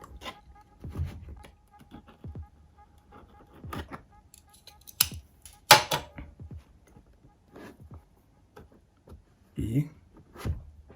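Branded sealing tape on a Motorola RAZR phone box slit with a blade in a few short scratchy cuts, between sparse bursts of nearby talk.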